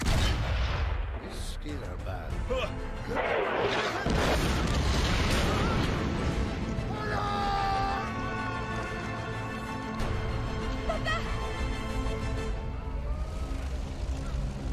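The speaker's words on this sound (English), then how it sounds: "Fire the cannon." Cannon fire in the World War I video game Valiant Hearts: The Great War, heavy booms and blasts over dense battle noise and music, with a voice speaking amid the din.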